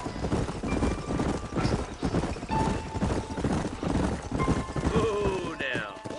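Horse hooves clip-clopping steadily in the Western video game Red Dead Redemption, with a whinny late on, heard under continuous talking from game characters.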